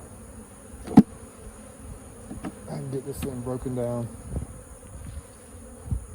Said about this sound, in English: let the bees rob it out